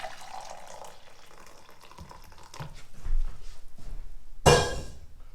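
Hot water from the stove is poured into a measuring cup, a short gurgling splash toward the end after quieter kitchen sounds, fairly close.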